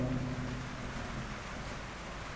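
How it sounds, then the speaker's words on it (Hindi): Steady rain falls outdoors during a maths lesson, a soft, even hiss of moderate loudness that continues unbroken with no one talking. "बारिश होने लगी"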